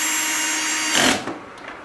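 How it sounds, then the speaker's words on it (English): A power drill drives screws back into the housing of a Chauvet Q-Spot 260 LED moving-head light during a repair, heard as one loud, short whirring burst that stops abruptly, with a faint click or two afterward. "Reapplying the screws."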